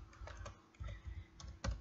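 Quick bursts of keys being tapped on a computer keyboard, a short run of clicks and thumps heard quietly and close.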